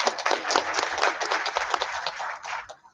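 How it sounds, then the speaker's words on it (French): Audience applause at a ceremony handing over simulators, a dense burst of many clapping hands that stays loud and steady before tapering off at the end, with no talking over it. "je vous demande de les applaudir encore une fois"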